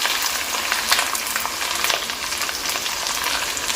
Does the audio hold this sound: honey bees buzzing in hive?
no